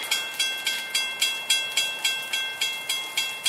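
A train rolls past in steady rain, its wheels clacking in a regular, even rhythm of about three beats per second, loud and close, with a faint high tone running underneath and no voices.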